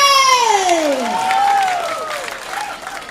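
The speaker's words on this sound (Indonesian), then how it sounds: "Tepuk tangan sekali lagi untuk PSHT." Audience at a stage event for the PSHT martial arts group claps and cheers, a steady wash of applause throughout while a voice calls out loudly over the start.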